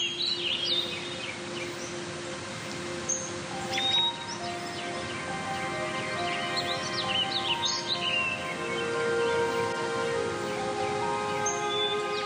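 Birds singing in a forest, several high chirps and whistled phrases scattered over a steady, faint background of insects or distant hum, with no voices.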